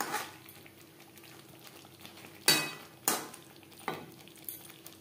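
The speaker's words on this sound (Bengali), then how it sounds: "মশলার সাথে পটল বেশ ভালো করে মিক্স করে দেব" Pieces of pointed gourd are stirred with spices in a pan. Three sharp scraping strokes ring out against a low sizzle, with a softer knock between them.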